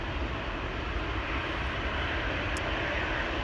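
An airplane takes off at Amsterdam Schiphol Airport, its engines a loud, steady, broadband roar that holds without a break from start to end.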